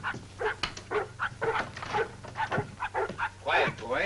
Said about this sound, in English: It's not a man. It's a dog. He's hurt.